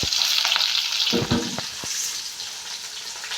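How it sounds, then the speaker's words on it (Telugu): Mustard seeds and cumin frying in hot oil, a close, steady sizzle with a few faint pops and a brief stirring clatter, no talking. "కొన్ని ఆవాలు వేసుకొని మళ్ళీ జీలకర్ర కొంచెం"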